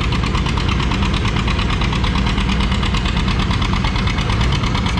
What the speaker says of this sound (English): one of our John Deere 70 is back on the sled as he moved up to the 4 mile an hour class